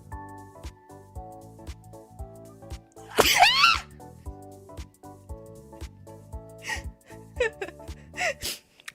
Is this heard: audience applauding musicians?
no